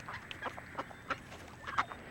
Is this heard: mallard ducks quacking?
yes